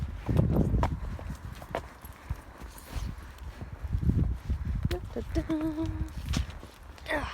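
Horse hooves walking steadily along a stony autumn riding track, a clear clip-clop rhythm close by, with a rider talking over the steps.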